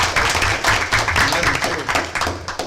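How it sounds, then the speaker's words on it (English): Applause at a school board of education meeting, moderately loud group clapping with uneven bursts, voices mixed in among the claps. "could we have a round of applause for them?"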